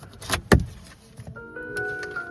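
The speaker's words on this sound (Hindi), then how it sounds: "आएगா एक म्यूजिक आएगा जब आप गाड़ी बंद करके जाओगे।" A Hyundai Venue base model is locked, giving a sharp door thunk followed by a short electronic chime of a few sustained tones, close and clear, with no talk.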